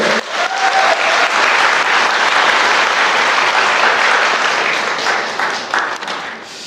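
Roughly 1,500 attendees at a Bucheon apartment reconstruction briefing break into full applause, a loud, dense roar of clapping that swells quickly, holds for several seconds, then thins toward the end, with a brief voice near the start.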